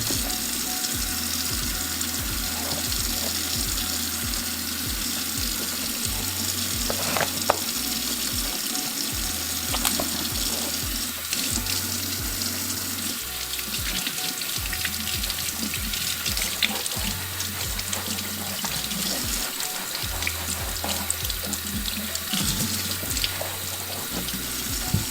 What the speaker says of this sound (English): just run some warm water on them